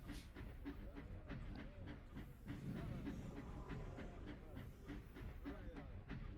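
Train interior ambience for a tabletop role-playing game set aboard the Orient train: a quiet, continuous rumble with a steady clickety-clack of wheels over rail joints and a faint hiss, heard alone.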